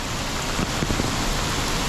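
Rain falls steadily in Taipa, Macau, a dense hiss of drops hitting surfaces, loud and close without pause.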